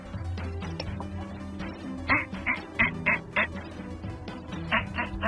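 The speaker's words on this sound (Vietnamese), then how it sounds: "Đáp đột nhiên nhận ra có một đàn vịt hoang bay tới từ xa." Wild ducks quacking in a rapid series of short calls as a flock passes during an Arctic survival outing, heard over a steady low rumble of wind or background noise.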